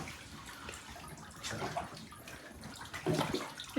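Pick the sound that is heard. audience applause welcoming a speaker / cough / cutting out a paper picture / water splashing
water splashing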